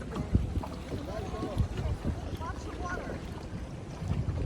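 Small inflatable dinghy with an outboard motor moving through a rocky bay in Kekova, Turkey, with a steady engine drone, water slapping and wind buffeting the microphone, while people talk faintly.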